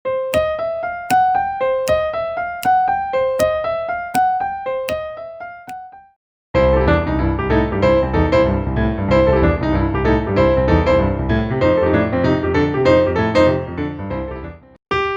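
A piano plays a repeating boogie-woogie pattern of rolled notes in triplets, then breaks into a fuller, busier bluesy passage with dense chords.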